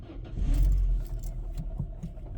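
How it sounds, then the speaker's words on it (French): A Peugeot 307 running on E85 ethanol starts up and settles into a steady idle, a close, low rumbling engine with a rough burst at the start and then an even, continuous drone. "la voiture démarre, elle tourne, le ralenti est stable"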